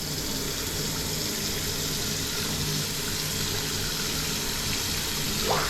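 Water from a bathroom tap in Singapore runs steadily into a glass, a soft continuous gush and fill with no talking.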